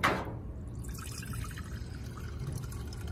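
A mixed liquid fertilizer solution for foliar feeding pours into an empty container, opening with a brief splash and then settling into a soft, steady trickle of liquid, fairly quiet and without speech.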